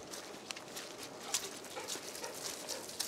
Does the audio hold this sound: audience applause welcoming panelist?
no